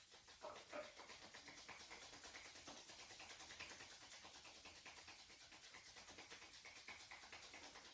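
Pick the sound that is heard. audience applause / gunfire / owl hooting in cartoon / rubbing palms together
rubbing palms together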